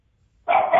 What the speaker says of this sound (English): There's my dog chiming in with her picks for Father's Day